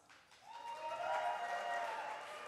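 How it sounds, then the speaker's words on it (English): Audience applause at a gala benefit for an HIV and AIDS organisation, building from a soft start into a steady, moderately distant wash of clapping that holds for a few seconds. "Hold for applause."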